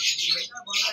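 Pet lovebirds and cockatiels at a breeding farm let out a quick pair of bright, shrill chirping calls close by, with a short gap between them.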